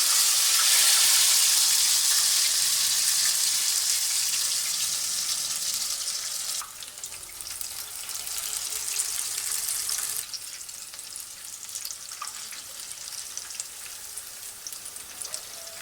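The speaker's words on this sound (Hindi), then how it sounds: "अब हम इसमें डाल देंगे फ्राई करने के लिए।" Spiral-cut potatoes dropped into very hot oil, with a loud dense bubbling hiss that eases after a few seconds into a steadier, softer frying crackle, close and without speech.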